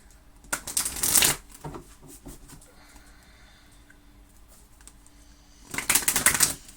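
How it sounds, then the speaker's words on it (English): Mystical Shaman oracle cards are shuffled in two close bursts of riffling, one early and one at the end, separated by a quiet stretch. "let's pull you a Mystical Shaman card by Alberto Villoldo and Colette Baron Reed and Marcela Lobos"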